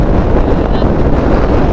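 Loud, steady wind roars and buffets straight into the microphone of a moving motorcycle in Iraq, a dense blustery rush with no pauses.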